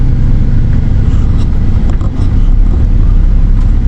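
Dense road traffic of many cars rolls past in a fast-growing town, a loud, continuous engine rumble and tire roar with a few vehicles standing out as they pass near.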